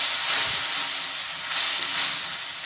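Potatoes and spices with garam masala and cumin-coriander powder sautéing in a pan for aloo dum, a steady close hiss and sizzle swelling gently twice.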